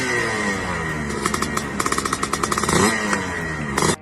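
Small motorcycle fitted with a 56 horsepower race motor, its engine running with a busy, rattling mechanical clatter and a series of sharp rapid pops, rising in intensity toward the end.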